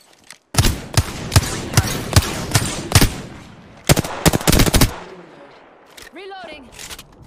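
Rapid bursts of gunfire in a competitive ranked PC first-person shooter, loud sharp shots in quick rhythmic clusters, then a short pause and another volley, ending with quieter game sound effects.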